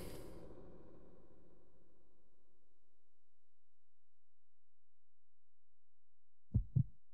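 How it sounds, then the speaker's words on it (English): Loading-screen heartbeat in Resident Evil Code: Veronica X on GameCube: a single low double thump near the end, after a fading tone and a long silence. "This game has these really fucking annoying heartbeat loading screen things that slow everything down even more than normal."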